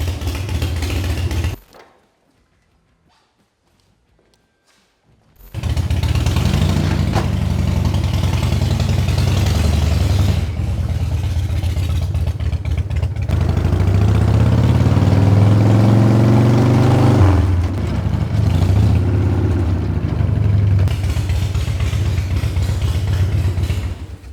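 Chopper motorcycle engine running after a full carburetor rebuild, new ignition and fresh fluids: a loud, close, rough idle that cuts out briefly and then restarts, with a few revs rising and falling.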